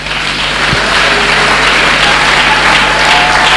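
A church congregation applauds in a sustained, dense wash of clapping that holds at an even level from start to end.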